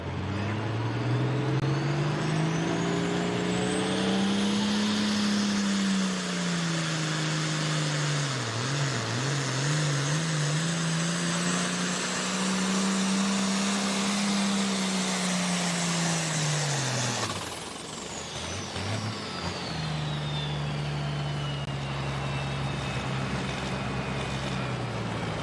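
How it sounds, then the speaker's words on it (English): "The little tractor" from Fredericksburg makes a pull at a tractor pull at Amelia Court House, Virginia, its engine roaring loud and sustained, rising and dipping in pitch for about seventeen seconds before cutting back to a lower drone. "Wayne Balderson first on the hook on the tractor they call the little tractor"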